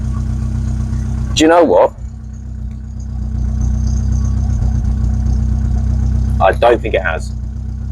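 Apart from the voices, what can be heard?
Rover 25 GTI engine idling with slight misfire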